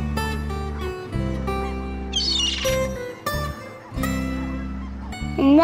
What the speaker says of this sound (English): Listen, Mr. Tumble, there's a seagull.